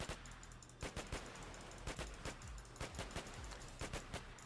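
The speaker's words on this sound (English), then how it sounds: "Go on, keep shooting it!" Gunfire in a Roblox survival game against a giant enemy, rapid repeated shots in short bursts at a steady rhythm over a constant background hum, loud and near throughout.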